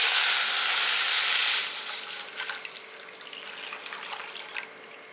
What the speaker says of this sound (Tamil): இப்போ 1/2 லிட்டர் பால் ஊற்றிருக்கேன்.